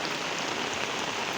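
Heavy rain pours steadily onto surfaces nearby, a dense, continuous hiss and patter at constant loudness, with no voices over it.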